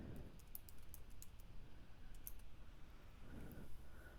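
Quiet clicking keystrokes on a computer keyboard as text is typed, faint and irregular taps in small bursts over a low background hum.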